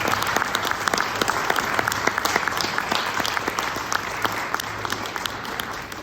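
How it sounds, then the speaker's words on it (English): Steady, enthusiastic applause from a crowd at a Black History Month talk at the Field Museum fills the whole stretch, dense clapping holding at an even level throughout. "Can we give her another round of applause, please?"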